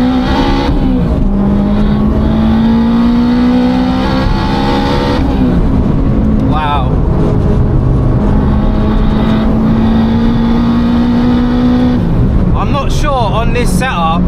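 A 500bhp big-turbo Honda Civic Type R accelerates hard, its loud engine note climbing in pitch through repeated gear changes with brief dips between pulls, while a person talks over the noise.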